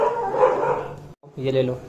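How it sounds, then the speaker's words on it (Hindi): Several dogs barking near a home and shop in a family setting, short barks mixed with talk, a brief pause, then more barking under voices. "ये भाई कुत्ते बहुत भौंक रहे यहाँ पे"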